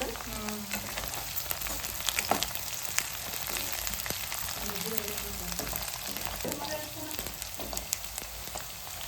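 Onion and garlic frying in oil in a pan for an eggplant curry, a continuous close sizzle with occasional stirring clicks.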